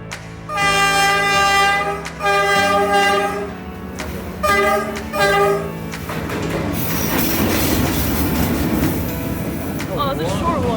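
A train on Train Street in Hanoi, Vietnam, sounds several loud, long horn blasts up close, then rolls past with a rising clatter and squeal of wheels, under a crowd of voices.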